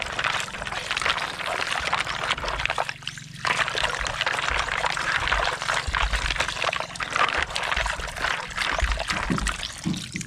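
Strong, steady rush of water pouring from a household tap, loud and continuous with a brief dip near the start, with no talk over it.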